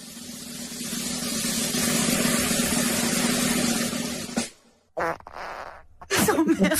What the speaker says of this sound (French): C'est quoi ce petit prout à la fin?